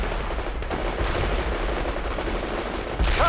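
Rapid gunfire from the video game World in Conflict rattles continuously in dense bursts of automatic fire under heavy low rumbling, loud and close, with a brief whistling sound near the end.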